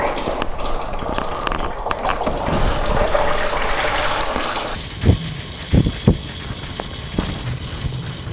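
Antifreeze drains from a CF Moto Z Force 1000 side-by-side in a steady rushing pour that ends abruptly, followed by a few dull knocks against a faint background hiss.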